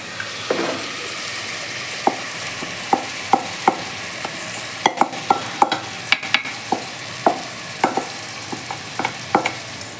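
Rice for a cowpea biryani is tipped into fried masala in a pan and stirred, with a steady sizzle under repeated sharp spoon taps and scrapes against the metal, close and fairly loud, with no voices.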